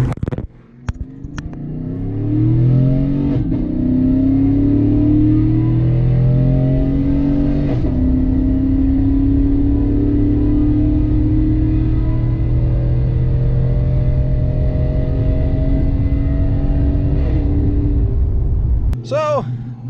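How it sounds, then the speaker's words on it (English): Truck engine revving up, rising through the gears in long climbing surges, loud and close, with a brief voice at the end. "I'm going to try and see if I can't get this up in speed or in RPM"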